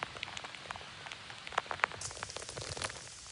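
Hailstones mixed with rain in a hailstorm patter and click irregularly on nearby surfaces, several sharper hits standing out above a constant hiss of falling rain, with no voices.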